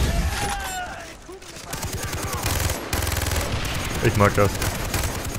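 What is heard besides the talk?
rapid-firing gun in Far Cry 3 video game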